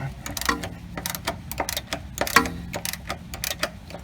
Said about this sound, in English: I'm going to come in here and break them loose with a ratchet and a socket